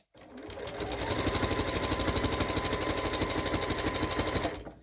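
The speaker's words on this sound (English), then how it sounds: "I'm gonna do a lock stitch. It's just neater than going like back and forth." A sewing machine runs a lock stitch on a strip rug seam, a fast even needle chatter that starts, holds steady for about four seconds and stops, close and moderately quiet with no speech.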